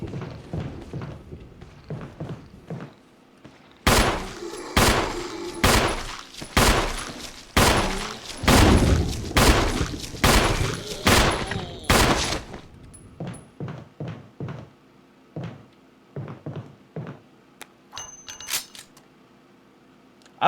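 Rapid bursts of gunfire from a handgun in the survival horror game Resident Evil, a dense run of sharp shots followed by sparser single shots, loud and close, with no talk over them.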